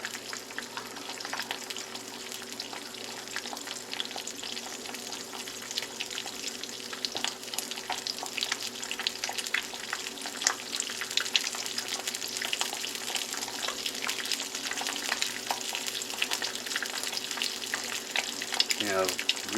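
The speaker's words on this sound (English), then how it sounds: "And there's our egg in a little tiny skillet." An egg fries in a small skillet, a steady close crackling sizzle with fine popping spatter that builds slightly and runs unbroken throughout.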